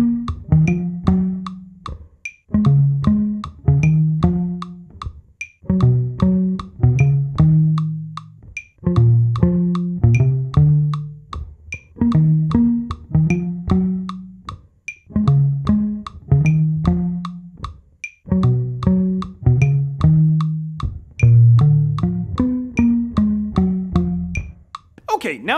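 Electric bass plays the verse line of a song at 152 bpm, a driving run of plucked low notes with brief pauses between phrases, close and clear with no talking.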